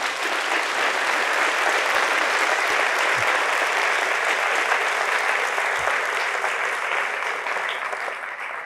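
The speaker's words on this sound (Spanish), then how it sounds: "Fuertes aplausos a Jesús" Sustained applause from a large church congregation at a Catholic service, a dense, even roar of many hands clapping that holds steady for several seconds before easing slightly at the end.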